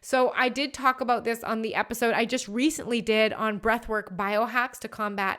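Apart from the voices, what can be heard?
None of the usual background noises is heard.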